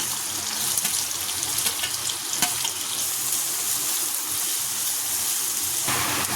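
Onion dropped into hot oil with whole spices, frying with a steady broadband sizzle and hiss that stays fairly loud throughout, with a few sharper crackles and no talking.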